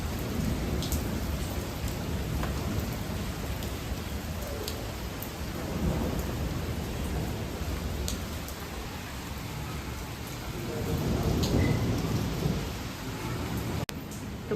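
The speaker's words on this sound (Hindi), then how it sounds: "बाहर बहुत भयंकर बारिश हो रही है" Heavy monsoon rain outside a home, a constant loud hiss of downpour on surfaces with low thunder rumbles swelling now and then, no voices.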